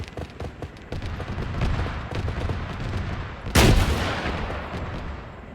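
Gunfire and rocket launches in the military shooter Arma 3: a continuous rattle of rapid shots builds up, then a loud sharp blast with a long decaying roar near the end.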